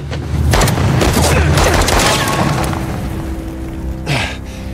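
Rapid bursts of gunfire in Uncharted: The Lost Legacy with heavy booming shots, loud and close, followed by a trailing rumble and a lone later report.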